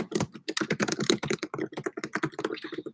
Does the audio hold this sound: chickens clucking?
no